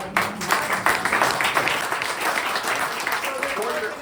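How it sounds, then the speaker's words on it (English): An audience claps at a political ice cream social, a burst of applause that rises quickly and carries on beneath someone speaking over it. "You can clap for that, absolutely."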